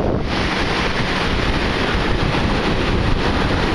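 A strong east wind of about 16 blows across rough sea, a loud constant roar of wind buffeting the microphone mixed with the wash of water, steady and close.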